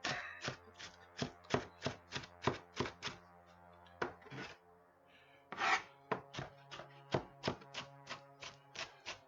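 A knife chops an onion on a cutting board in steady, evenly spaced thuds, close and fairly soft, with a brief pause partway through before the rhythmic chopping resumes.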